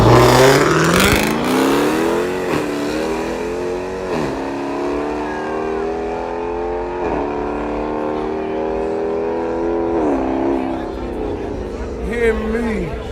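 A Dodge Hellcat at a drag strip during grudge racing revs loudly and repeatedly, each rising engine whine dropping off before the next, under loud nearby talk.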